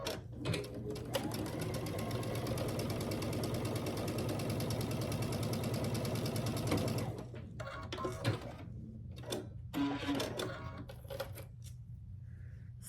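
A sewing machine stitches a seam on a Grinch quilt block, running steadily for about seven seconds before stopping, then starting again in a few shorter bursts close by, with no talk.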